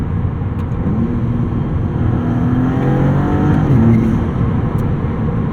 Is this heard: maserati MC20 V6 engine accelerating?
yes